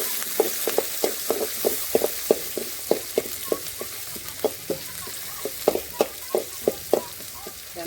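Onions and curry leaves fry in hot oil in a pan for an egg curry, giving a steady sizzle broken by regular sharp clicks and scrapes of stirring, close and without talk.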